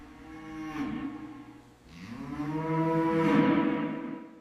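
Angus cattle low in a holding area of a hide and horn processing facility. Two long, deep moos come close and loud, the second one swelling and drawn out, with no voices.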